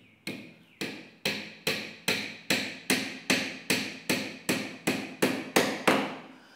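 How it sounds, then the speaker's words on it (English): A steady run of about thirteen sharp hammer blows drives a nail into wood, each strike crisp and close, evenly spaced roughly half a second apart with short ringing decays and no talking. "Now I'm going to insert the second nail."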